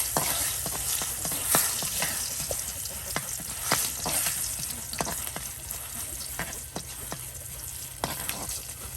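A tempering of spices spits in hot oil for a village dish of boiled radish stalks, a soft continuous sizzle punctuated by sharp crackles and stirring clicks, close and steady, without speech.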